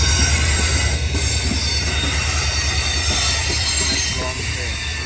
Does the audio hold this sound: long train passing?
yes